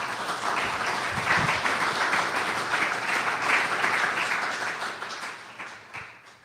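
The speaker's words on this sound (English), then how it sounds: "Let's give Nick a round of applause" Audience applause at a developer tech talk as a speaker finishes, a dense steady wash of many hands clapping that fades gradually toward the end.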